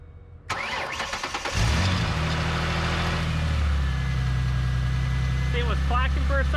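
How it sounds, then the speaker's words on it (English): A car engine cranks and fires after a fresh oil change, with a brief clacking from dry components before settling into a steady, close idle; a voice speaks over the start. "But if you listen carefully when I start this engine, you hear it clack a little."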